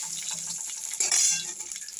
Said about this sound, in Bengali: এবার আমি কড়ার মধ্যে পাঁচফোড়নটা দিয়ে দেব, শুকনো লঙ্কা, তেজপাতা